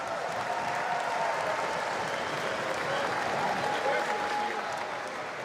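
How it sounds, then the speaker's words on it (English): A basketball crowd at a league final in Cowles Stadium gives steady applause, a continuous dense wash of clapping and cheering from a large arena audience with some voices mixed in. "Give yourself a round of applause"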